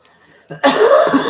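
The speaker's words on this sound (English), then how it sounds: "I've got to clear my throat." A short, rough throat-clearing burst, loud and close, after a faint lead-in.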